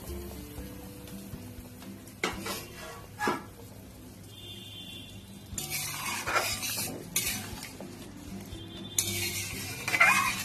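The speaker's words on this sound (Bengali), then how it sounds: "10 মিনিট হয়ে গেছে, ঢাকাটা খুলছি।" A metal lid lifted off a cooking pot of Bengali hilsa fish curry with potato and eggplant, giving a few sharp clanks and scrapes over a quiet background, with bursts of clattering and faint sizzling following.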